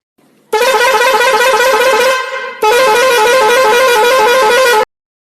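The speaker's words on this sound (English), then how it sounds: "Truck." A truck horn blasts twice, loud and near: a long brassy honk, a brief break, then a second sustained honk of about two seconds that cuts off abruptly.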